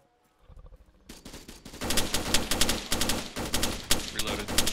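Rapid gunfire from the Arma 3 video game during a zombie night mission, bursts of repeated shots cracking loudly one after another, dense and sustained after a brief quiet start.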